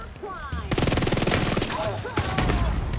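Gunfire in the video game The Division 2, a loud sustained burst of rapid automatic shots after a brief quieter moment, close and dense, with a few sharper cracks toward the end.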